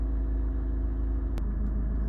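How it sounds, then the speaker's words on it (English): A Honda Civic 1.6 i-DTEC diesel idles steadily up close, a low continuous rumble with a brief faint click partway through, no voices. "Engine running, no warning lights on."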